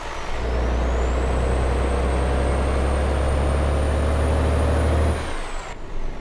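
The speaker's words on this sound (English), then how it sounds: "Let's just listen to this beautiful engine mod as well." A Mack Pinnacle with an engine sound mod in American Truck Simulator, hauling logs in Arkansas, gives a loud, steady diesel drone under a slowly rising turbo whine for about five seconds before cutting off abruptly.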